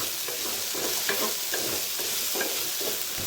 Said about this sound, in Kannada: ಈಗ ಆಲ್ಮೋಸ್ಟ್ ಫ್ರೈ ಆಗಿದೆ